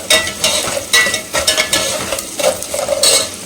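Onions sizzle in a pan with rock salt, with repeated scraping stir strokes and light utensil clinks over a steady frying hiss, close and clear, no talk.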